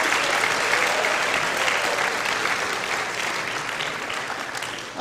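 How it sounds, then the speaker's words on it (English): A school assembly audience claps loudly and continuously for a motivational speaker, the applause holding steady before tapering slightly at the end. "How about another round of applause for Brandon Lee White?"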